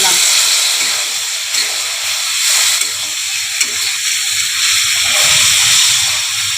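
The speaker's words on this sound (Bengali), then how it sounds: "এই যে আমি এবারে বন্ধুরা জল ঢেলে দিলাম।" Water poured into a hot pan of spices for a thin hilsa fish curry with eggplant, a loud continuous hiss and bubbling sizzle close by.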